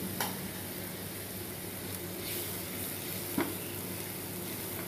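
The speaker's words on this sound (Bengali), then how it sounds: "এগুলো একটুখানি ভালো করে ভাজা হোক, একটু চাপা দিয়ে ভেজে নিই।" Chopped green chillies and turmeric fry in a pan with a soft, even sizzle, faint and steady, broken by a couple of light clicks.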